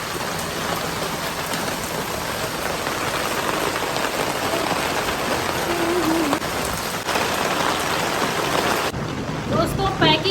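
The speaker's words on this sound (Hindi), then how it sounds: "और झमाझम बारिश भी शुरू हो गई है।" Heavy monsoon rain pours down in a dense, steady roar of drops hitting surfaces, close and loud throughout, with faint voices beneath and a brief shift near the end.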